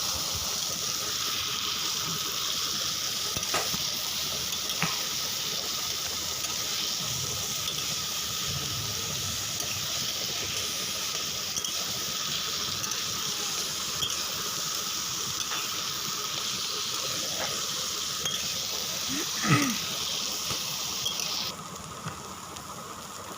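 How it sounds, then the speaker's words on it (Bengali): Cabbage paratha filling is stirred in a pan over a medium flame, giving a steady, even sizzle with a few soft scrapes and clicks from the spatula. "তো এটাকে এবার মিডিয়াম ফ্লেমে আমি নাড়াচাড়া করে নেব 2-3 মিনিট।"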